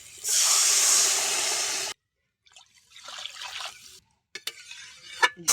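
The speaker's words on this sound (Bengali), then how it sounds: "ঝোলটা ফুটছে" Tilapia and sour spinach curry gravy with potatoes boiling in a covered pot: a loud, steady hiss for about two seconds, then faint bubbling and a few sharp clicks.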